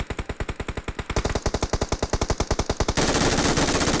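Rapid automatic gunfire from a mobile shooter video game, a steady stream of close, punchy shots that speeds up midway and then blurs into a continuous dense roar of fire.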